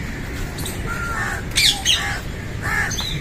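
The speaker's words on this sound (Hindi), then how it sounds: "यहाँ कुछ खूबसूरत तोते रखे हैं" Squawks and harsh calls from parrots in a zoo enclosure, several short bursts standing out over a steady background of birds and outdoor ambience.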